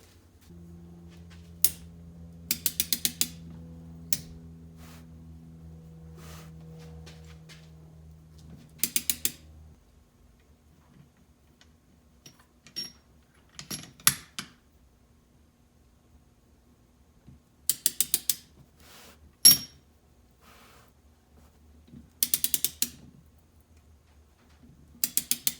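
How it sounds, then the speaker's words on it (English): A torque wrench ratchets on the rear shock bolt of a Honda ATC 200x, with several short bursts of rapid clicking separated by quiet pauses, close and fairly crisp, and a low hum early on. "we're going to torque this to 27 foot-pounds"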